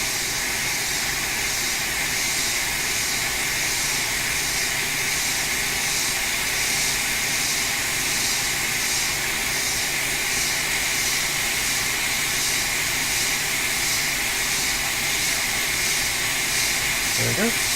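A hot air rework tool blows a steady, even hiss of air while heating flux and solder on a MacBook Pro A1707 logic board (820-00281), holding constant and fairly loud throughout with no talk.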